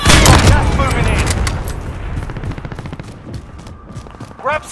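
Dense Call of Duty Modern Warfare gunfire: a loud rattling burst of rapid shots that slowly tapers off, with a sharper crack at the very end.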